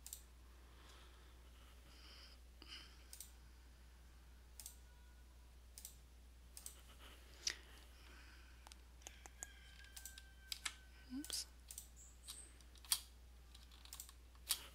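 Sparse computer keyboard keystrokes and mouse clicks during Photoshop work, scattered single clicks and short typing bursts over a quiet room hum, with no talking.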